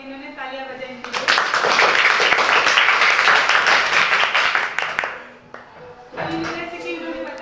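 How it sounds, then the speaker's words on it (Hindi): A class of children applauds together, loud and sustained broadband clapping for about four seconds before fading out, with a teacher's voice speaking before and after. "तालियां बजाएं इनके लिए।"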